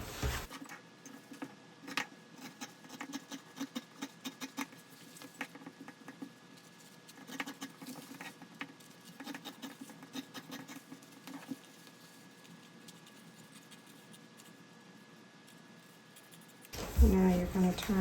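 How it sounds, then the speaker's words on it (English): Scissors snip steadily through fabric, trimming a quarter inch off the seam allowance on a sewn top, with dense rapid clicks and rustles up close and a louder handling clatter at the end. "now we're going to trim some of this excess seam allowance off, and we're going to trim 1/4 inch off"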